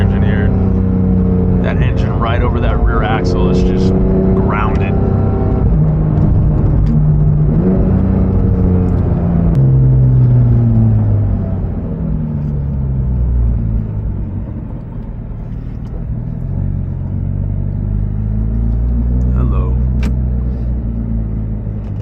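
A Porsche GT3 RS with its engine over the rear axle rumbles and whirs loudly while driving, rising and falling in pitch through gear changes, under continuous talk from the driver.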